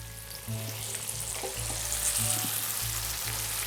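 Chicken pieces fry in masala in a pot for a Pakistani chana chicken dish, giving a continuous close sizzle with some stirring, and no one speaks.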